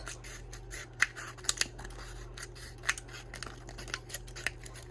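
Scissors snipping through a plastic bottle, with several sharp, crisp cuts at irregular intervals over a quiet background hum, heard close and alone.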